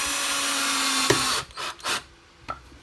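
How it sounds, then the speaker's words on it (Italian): An impact driver whirs steadily as a screw bites into wood at a pocket hole, then stops, followed by a few short bursts and scraping sounds. "utilizzando l'avvitatore con la punta in dotazione"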